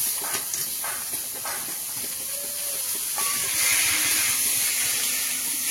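Chopped banana flower tipped into a hot pan of fried coconut, giving a loud continuous steamy hiss that swells toward the end, close and alone without talk.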